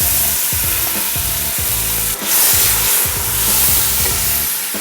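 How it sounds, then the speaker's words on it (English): Rempah spice paste with belacan shrimp paste frying in a pan for Nyonya assam pedas, a loud, dense sizzle with repeated scraping strokes of a spatula in a steady rhythm, close up. "Now, you want to fry this rempah until it gets nice and aromatic."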